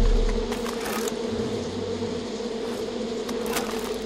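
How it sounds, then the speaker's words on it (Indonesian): A swarm of bees drones in Far Cry 5, a steady close buzzing with a sustained low hum and faint flickering wingbeats, continuous for the whole stretch with no talking. "Nah, ini ada lebah nih, ini ada lebah nih."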